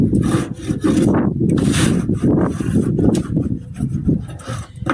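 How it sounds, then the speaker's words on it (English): Wax is rubbed by hand along the edges of a reclaimed pallet board, giving close, rhythmic scraping strokes with short pauses between passes. "take the board, take the wax, and do the edges"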